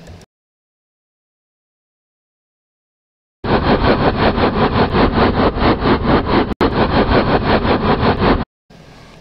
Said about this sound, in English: steam locomotive engine sounds.